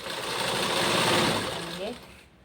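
A sewing machine runs while stitching a fall onto a saree, a brief close mechanical whir that rises and then fades, with talk over it.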